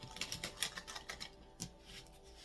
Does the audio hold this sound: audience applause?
no